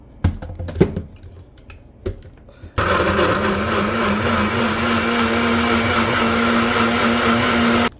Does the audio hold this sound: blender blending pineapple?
yes